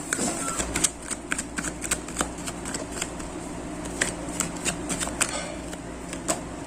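Tarot cards are shuffled close by, giving a quick, irregular run of light flicking and riffling snaps that stays soft and unbroken.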